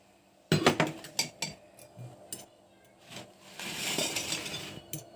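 A utensil clinks and taps against a bowl while cracked eggs with a little water and salt are whisked, starting with quick sharp rattles and then turning to a softer swishing stir. The sound is close and fairly quiet.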